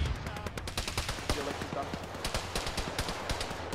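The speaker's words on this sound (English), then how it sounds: "Somebody's shooting in this direction." Gunfire crackles in the military video game ArmA during a ShackTac session: scattered shots and short automatic bursts pop at a moderate distance in a steady, uneven rhythm, with no voices.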